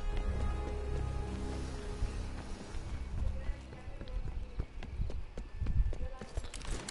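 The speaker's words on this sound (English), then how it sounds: "Footsteps are pretty loud, just like Modern Warfare" Loud, rapid footsteps thud and clatter through a dense wash of in-game noise during a team deathmatch in the video game Call of Duty Black Ops Cold War, steps close and overlapping.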